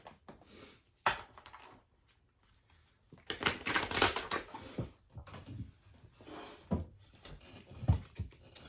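Cards being pulled and shuffled from an oracle card deck, with quick papery riffles, flicks and handling clatter in bursts, close and moderately quiet, with pauses between.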